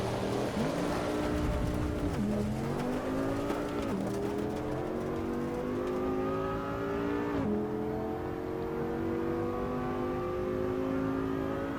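Race car engine in Assetto Corsa Evo holds a steady, loud droning note through the whole stretch, pitch dipping under braking and rising again as the throttle comes back on, with a brief lift and recovery near the end.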